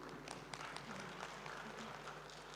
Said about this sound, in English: A hand clap for our esteemed panelists.